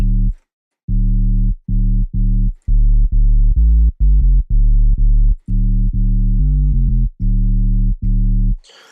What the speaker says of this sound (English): sometimes what I find when you use a sine wave